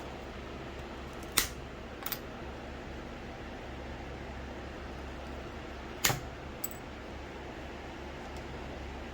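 Scissors snip rhizome clips in a quiet room: two sharp, clean cuts several seconds apart, each followed by a fainter small click, over a steady low hum.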